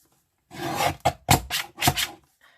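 A trimmer or blade cuts through thick layered scrapbook paper for a journal, giving several close, rasping strokes in quick succession with short pauses between them.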